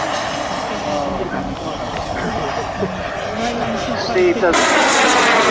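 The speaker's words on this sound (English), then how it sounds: "you'll hear the gas turbine being cut" A model jet aircraft with a gas turbine engine flies at a model air show, its steady roaring whine shifting in pitch as it passes, heard under a commentator's voice.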